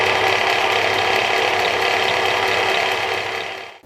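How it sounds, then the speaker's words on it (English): Sailrite industrial walking foot sewing machine, freshly oiled with a plastic hand wheel, runs at a steady, loud, angry-sounding drone close by, holding constant before winding down and stopping at the end. "These Sailrite machines always sound kind of angry to me when you run them"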